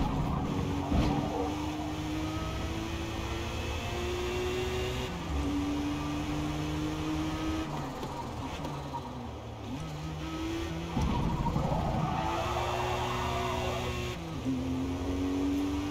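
Ford GT in Forza Motorsport revving hard through repeated gear changes, engine pitch climbing then dropping as the driver lifts off, with steady road noise underneath and no talk.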